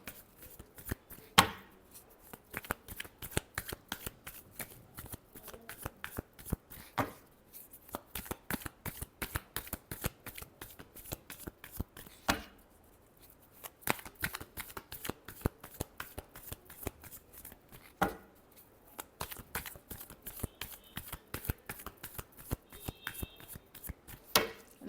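Tarot cards are shuffled by hand in a long run of quick, crisp riffling bursts and slaps, close and fairly quiet, broken by brief pauses between rounds.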